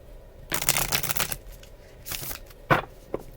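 A deck of oracle cards is shuffled for a love reading, heard up close as a long riffling burst, then a shorter one and a few quick flicks, with no talking over it.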